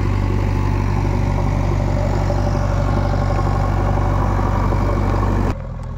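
A JCB 3DX backhoe loader engine runs at a steady, loud idle while a diversion ramp is built for a tractor to climb, with a continuous low rumble that drops off abruptly near the end.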